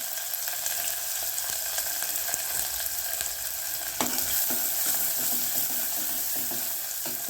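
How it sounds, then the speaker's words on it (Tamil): Sliced onions and a bay leaf fry in oil in a pan for a Chettinad goat leg curry, giving a constant, close hiss and sizzle. A single metallic clank of a utensil sounds midway. "வெங்காயம் கொஞ்சம் நல்லா வதங்கிருச்சு"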